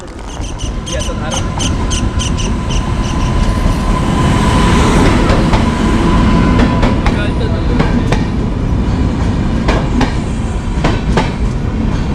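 A Netravati Express passenger train rolls past close by, loud and continuous, with rhythmic wheel clacks and metallic clicks over a heavy rumble.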